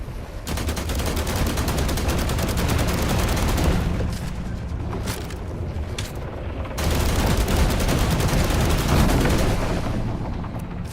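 Electric rifle firing in the video game The Last Caretaker, a dense, continuous stream of rapid shots lasting almost the whole time, loud and close, with a brief lull midway before the barrage resumes.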